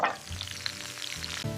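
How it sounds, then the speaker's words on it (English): Bacon fries in an iron skillet with a steady, close crackling sizzle that runs through the whole short stretch, accompanied by faint tonal music. "I cook bacon in the iron skillet"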